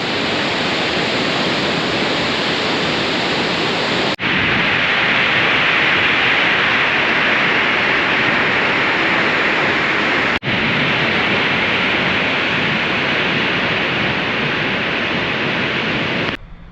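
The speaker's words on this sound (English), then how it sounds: "Them waterfalls are amazing." A loud alpine waterfall on the Swiss Via Alpina pass route between Engelberg and Meiringen gives a steady, dense roar that fills the whole clip, close and unbroken.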